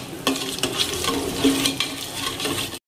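Spices and masala fry and get stirred in a pan while Goan-style egg biryani is being made. A soft, continuous sizzle sits under several sharper scrapes of a spoon against the pan, close up, and the sound cuts off abruptly at the end.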